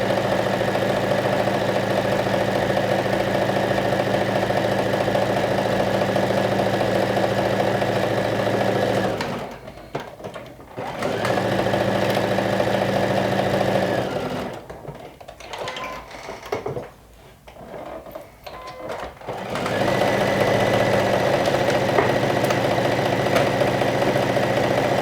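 A sewing machine runs continuously while sewing the side seam of a lumberjack shirt, a steady close mechanical whir that stops briefly twice for pivots before resuming, with no talk.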